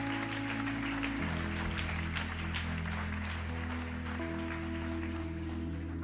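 Sustained clapping from a church congregation blends with steady music underneath, lasting the whole stretch at an even level.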